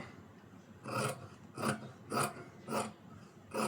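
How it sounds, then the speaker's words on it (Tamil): Scissors snip through blouse fabric during tailoring, five crisp, evenly spaced cuts close by with quiet pauses between, no voices. "நல்ல துணிக்கு ஏற்ற மாதிரி கட் பண்ணிடுங்க."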